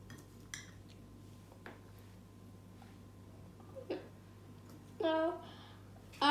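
A spoon works through a bowl of fruit salad with sour pomegranate seeds, giving a few soft, scattered clinks against a quiet background, with a brief voice near the end.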